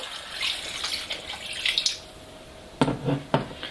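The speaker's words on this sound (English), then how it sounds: "All that's left to do now is add a little water." Water poured into a pan of pork vindaloo, with a soft splashing trickle early on and two sharper bursts of pouring near the end, fairly close and without talk.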